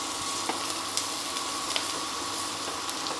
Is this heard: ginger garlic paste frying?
yes